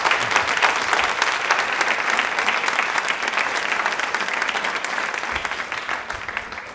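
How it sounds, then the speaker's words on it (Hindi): Steady, dense applause from an audience at a Women's Day quiz show on Rajasthan television, sustained at even loudness for several seconds with no voices over it. "इनके लिए तालियां जोरों से, शोरों से, दिल से होनी चाहिए थी"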